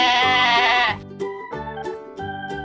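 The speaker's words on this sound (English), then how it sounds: "Goat." A goat bleats loudly up close, one long wavering bleat followed by a few shorter choppy calls, with no other sounds around it.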